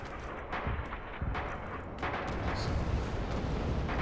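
Artillery barrage in the WWII shooter Red Orchestra 2 on the Bridges of Druzhina map: a dense, continuous roar of rumbling blasts, with several heavier booms swelling out of the din, loud and without voices.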